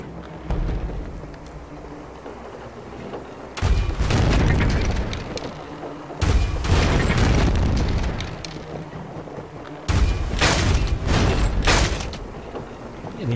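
Cannon fire in the pirate video game Legends of Pirates Online: three loud, booming salvos of blasts, each burst lasting a couple of seconds, with quieter rumbling game sound between them.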